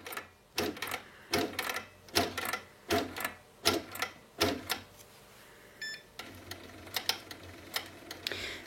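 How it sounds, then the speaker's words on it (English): A domestic sewing machine basting fabric, held on its needle-down button so it keeps stitching, sounds in close bursts of rapid clattering that start and stop repeatedly, with a steadier run of stitching toward the end. "So what I'm doing now is just holding the needle up, needle down button, and it'll just keep stitching."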